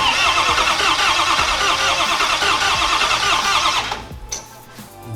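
Diesel race vehicle for the Pikes Peak hillclimb being fired up, a loud dense mechanical roar that runs steady for about four seconds, then cuts out abruptly, leaving quieter scattered clatter and a faint high whistle.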